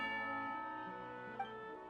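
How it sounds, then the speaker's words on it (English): Tea-time bell in the Genshin Impact video game, a single resonant bell tone with a long ringing decay, fairly quiet and heard alone. "You hear the sound of a bell"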